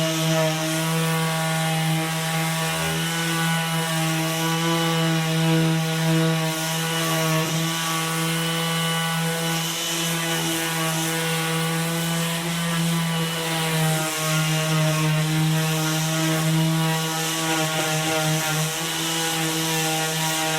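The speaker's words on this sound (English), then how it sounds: "this is an orbital sander" An orbital sander runs on wood continuously, a loud steady motor whine with a strong hum and dense buzzing overtones, holding an even level throughout with no talking.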